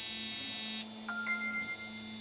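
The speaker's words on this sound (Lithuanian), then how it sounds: "Žinutė atėjo Olegui." A phone gives a short electronic notification tone for an incoming message, a steady bright beep followed by a couple of quick chirps, fairly faint over a low background hum.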